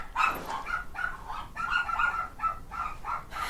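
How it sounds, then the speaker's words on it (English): A pet dog barking repeatedly nearby, sharp yappy barks coming in quick bursts of two or three with short gaps between them, loud against a quiet background. "Sorry for my dog's barking."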